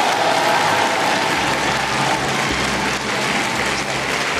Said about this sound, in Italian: E lo sai perché stanno facendo questo applauso sulla fiducia?